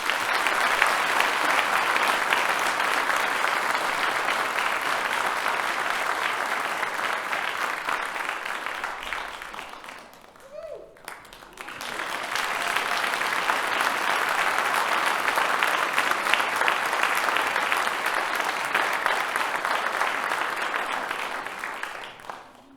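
Audience applause at a graduation ceremony in a concert hall fills the room loudly and steadily, dips briefly in the middle, then swells back to full, sustained clapping.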